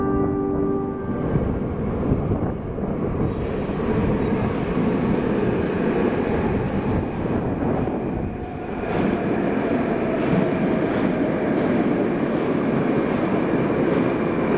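Moscow metro train running on the Big Circle Line, with a loud, steady rumble of wheels and carriage noise throughout and a brief dip near the middle, heard from inside the car with no talking.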